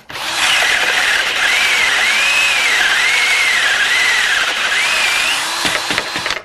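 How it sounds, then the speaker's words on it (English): A small battery-operated drill whines steadily at high speed while boring hinge holes in a cabinet door, continuous and close, with the pitch wavering under load before winding down near the end. "Even a little battery-operated drill will drill those holes."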